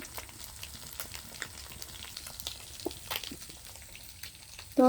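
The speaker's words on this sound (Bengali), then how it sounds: "আজকে হলুদ দিয়ে মাছগুলো ভেজে নিচ্ছি" Fish pieces coated in turmeric frying in a pan in a village kitchen, a soft continuous sizzle with scattered crackles and small spatters, close and moderately quiet, ending in a sudden louder knock.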